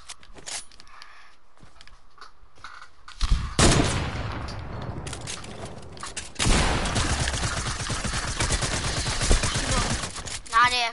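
Shotgun fire in a PS4 video game, two loud bursts of rapid, dense blasts after a quiet opening, each followed by rattling, sustained gunfire.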